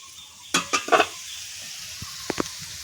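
A spatula stirs onions over soft potatoes frying in a pan, giving a few quick scraping knocks in a cluster, then two or three lighter taps, over a faint low sizzle; no speech.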